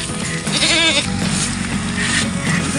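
A goat bleats loudly once near the start with a wavering cry, followed by fainter bleats over an outdoor rumble.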